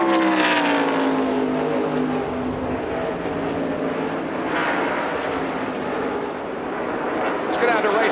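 NASCAR stock cars roar around Indianapolis Motor Speedway during the 1999 Brickyard 400 near lap 40 as cars pit. Loud engine drones rise and fall steadily throughout, with a commentator talking over them.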